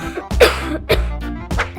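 A few quick coughs in a row, close and fairly loud, with short pauses between them, from a character in a Macedonian children's TV show.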